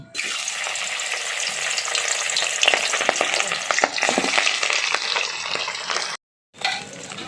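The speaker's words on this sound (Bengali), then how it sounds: "তেলটা গরম হয়ে গেছে এবার মাছগুলো ভেজে নিচ্ছি" Steady, loud sizzling of pabda fish frying in hot oil, a continuous crackling hiss with a brief gap near the end.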